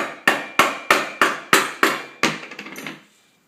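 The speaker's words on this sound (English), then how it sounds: "I'm going to hammer it in as best as I could" A hammer drives a bearing into a bicycle's mid bottom bracket through a cloth and a wood block, giving seven sharp, evenly spaced knocks followed by a quick run of lighter taps before it stops.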